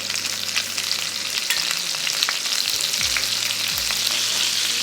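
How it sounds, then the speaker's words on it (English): Shrimp sear in a generous pool of oil in a pan, a close, continuous crackling sizzle with a few brief clinks and bumps of the pan, no talking. "I'm going to sear the shrimp first."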